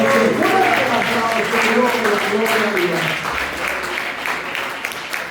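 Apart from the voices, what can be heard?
applause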